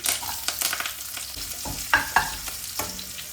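Dried chillies, crushed garlic, curry leaves and onion fry in hot oil for a leafy-greens lentil curry, a steady sizzle broken by repeated scraping stirs of a spoon against the pan.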